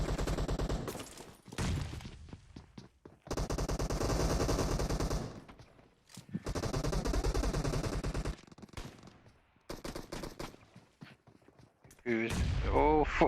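Bursts of automatic gunfire and explosions from a first-person team deathmatch shooter game, loud and dense in several separated volleys, with a grenade blast among them; voices talk in between.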